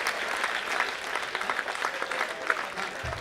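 An audience at a Hindi comedy poetry gathering claps in a brief, moderately distant burst of applause, fairly even and sustained.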